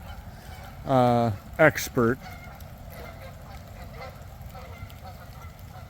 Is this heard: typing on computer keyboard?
no